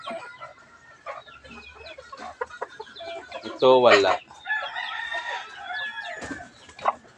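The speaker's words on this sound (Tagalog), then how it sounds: "Bumalik na yung inahin, guys." A hen clucks and squawks in a brief loud burst amid quieter farmyard bird sounds, with a person speaking softly throughout.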